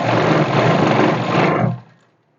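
A sewing machine stitches a suit seam in a dense, fast mechanical whir, loud and close, running for about a second and a half before stopping abruptly.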